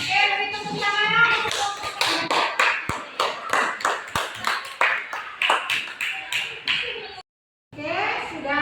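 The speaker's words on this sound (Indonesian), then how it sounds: "beri tepuk tangan" Classroom students clap together at the end of a lesson, a series of rhythmic group claps in pulses, with voices and chatter between and a brief silent gap near the end.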